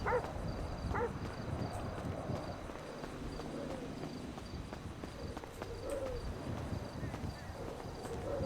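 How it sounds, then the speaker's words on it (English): Two short, distant barks from a dog in a video game sound near the start over a busy, rumbling game soundscape. Faint footstep-like thuds and low murmuring noise follow. "Might be haunted by the sound of a dog, by a dog."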